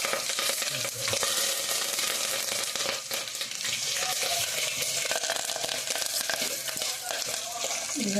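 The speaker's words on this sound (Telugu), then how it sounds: "దొండకాయ ఫ్రైకి అయితే ఇదిగోండి పోపు అయితే రెడీ అవుతుంది" Tempering for an ivy gourd fry sizzles and spits steadily in a hot pan, a loud continuous crackle with occasional stirring scrapes and no speech.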